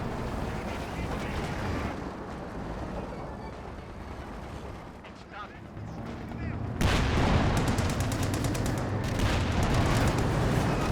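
Rapid machine-gun bursts in Company of Heroes 2 battle, broadband crackling fire building to louder, denser volleys in the second half, with distant booms of artillery and tank fire mixed beneath.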